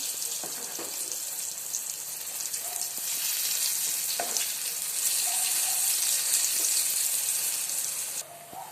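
Chana dal fritters (bora) sizzle in hot oil while being turned, a dense, continuous hiss with faint scrapes and light knocks from the utensil, ending with a sudden drop in level.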